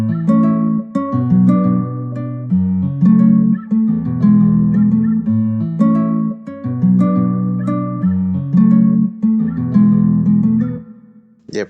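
Bright dancehall guitar melody built in FL Studio, treated with EQ, chorus and reverb, plucking a repeating chord-based riff over a steady groove, loud and upfront with no voices.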